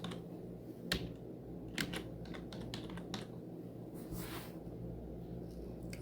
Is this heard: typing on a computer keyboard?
yes